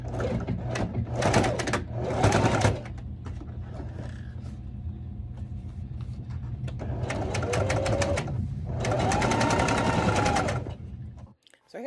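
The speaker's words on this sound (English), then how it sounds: "then I'm going to sew it down," Sewing machine stitching the neckline of an evening dress, running in several bursts of rapid stitching separated by short pauses, close and fairly loud with a low motor hum throughout.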